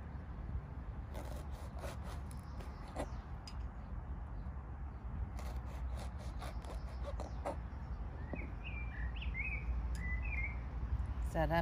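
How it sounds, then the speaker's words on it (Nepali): Birds chirp outdoors in the UK, a few short, clear calls clustered near the end over steady rubbing and cutting noise as an elderly woman slices rayo (mustard greens) leaves for gundruk. "चरा पनि जहिले पनि यहाँ गीत गाएर"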